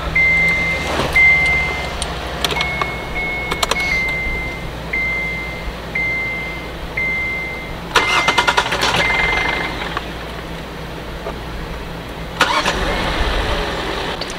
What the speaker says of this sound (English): Give it a second to prime the fuel pump.